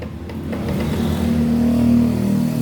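A Honda Beat FI scooter with a rough starter and a constantly spraying injector runs close and loud, its engine holding a steady, even hum after starting.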